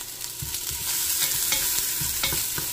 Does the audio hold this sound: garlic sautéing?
yes